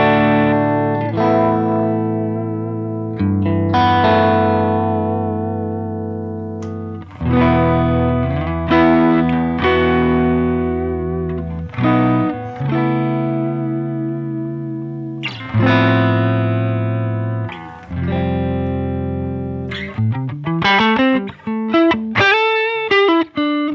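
An electric guitar runs through the Line 6 Helix Ventoux amp model with every control at five, playing loud, sustained overdriven chords that ring and decay between strums, ending in a quicker run of single notes.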